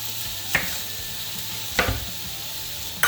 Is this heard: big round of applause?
no